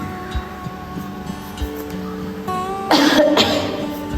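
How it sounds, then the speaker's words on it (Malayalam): Someone ill with a fever coughs and clears their throat indoors, in short rough bursts near the end of the clip over a low steady background hum. "നല്ല ചുമയുണ്ട് തൊണ്ടയിൽ"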